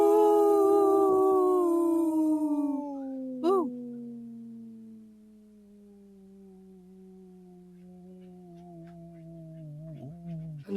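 A man imitates a wolf with one very long, strong howl that slowly glides downward and holds for many seconds, close and loud, with a brief vocal break partway through.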